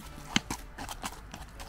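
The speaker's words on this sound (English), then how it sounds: "I'll let the horse pass." Horse hooves clip-clopping along a muddy forest path in Puddletown Forest, Dorset, a few close, distinct thuds spaced irregularly over soft ground.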